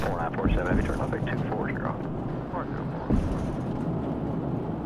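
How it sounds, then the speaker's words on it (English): Embraer Phenom 300 jet engines spooling up to takeoff power in a flight simulator: a broad, rising roar under continuous close talking, with a brief thump partway through. "Okay, takeoff power, coming up with the throttles"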